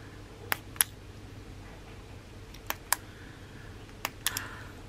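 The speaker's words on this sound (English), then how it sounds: "it's a clicky pen" A clicky pen is clicked several times, sharp isolated clicks spaced irregularly, in pairs and singles, close and fairly crisp over a quiet room background.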